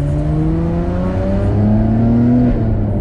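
Nissan Skyline R34 GTR accelerating hard, engine note climbing steadily with rising harmonics and turbos spooling, loud and close throughout with no talk.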